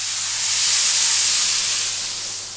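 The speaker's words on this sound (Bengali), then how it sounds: "এবার আমি দিয়ে দেবো পরিমাণ মতো জল।" Water poured into a pot of fried chicken for chicken pulao, a steady, loud rushing hiss that swells and holds for a couple of seconds before easing slightly.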